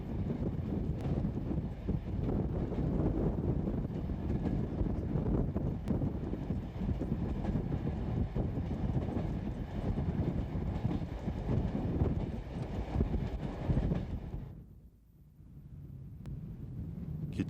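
A train rolls along rails on a long journey across China to Dunhuang, making a steady, dense rumble with rattling and wind noise throughout. The sound briefly dips and thins near the end, then resumes, and no one speaks.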